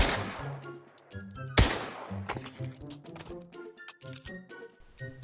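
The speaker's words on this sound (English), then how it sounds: "With the Luger, it takes 4 shots to kill an unarmored enemy, as you can see here" Luger pistol shots in the Pavlov VR shooter game, a World War II German sidearm, firing several sharp single reports spaced irregularly among clicky mechanical handling noises, close and clear, with no talk.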